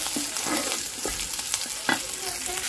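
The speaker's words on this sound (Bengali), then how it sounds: "আর এই যে মশলাটা ভাজছি, চিংড়ি মাছ, রসুন, পেঁয়াজ, কাঁচামরিচ একসাথে।" Shrimp frying in spiced oil with garlic, onion and green chili in a home kitchen, a steady crackling sizzle with scraping stirs and a few sharp spatula knocks, close and continuous.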